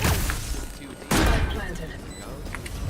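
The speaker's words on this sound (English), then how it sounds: "Placing swarm grenade. Swarm grenade out." A swarm grenade goes off in a shooter video game as one sudden loud burst partway through, over continuous game noise with voices talking.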